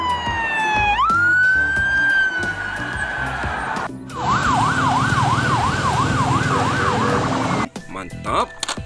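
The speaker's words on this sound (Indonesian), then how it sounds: "Mobil polisi." A toy police car sounds its siren, first a rising tone that holds steady, then a fast electronic wail, loud and close, cutting off with clattering at the end.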